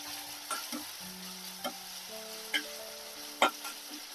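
A spoon scrapes and clinks through onions, chillies and ginger-garlic paste frying in a pan for a prawn and gongura curry, soft sizzling under a few sharp taps of stirring.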